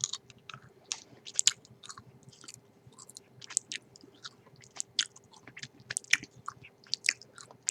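Jelly beans chewed close to the mic in an ASMR tasting, a steady run of soft, sticky, wet bites and mouth clicks with no talking, quiet but intimate.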